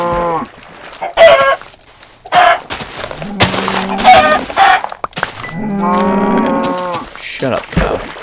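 Minecraft cows moo loudly and close by, several times, while chickens cluck in the background.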